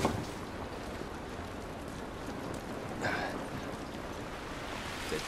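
Rain from The Last of Us Remastered video game hisses steadily as a dense, even downpour, with a couple of brief louder splashy bursts and no voices.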